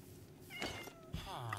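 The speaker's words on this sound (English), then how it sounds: "I heard a kitty!" A cat meows in the Minecraft video game, a short rising cry partway through, heard under ongoing game sounds and people talking.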